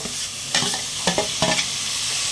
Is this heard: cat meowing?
no